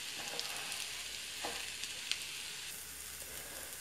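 Rice mixed with tomato paste being stirred in a pan as a cabbage-roll filling: a quiet, steady sizzle with a handful of soft spoon scrapes, no speech.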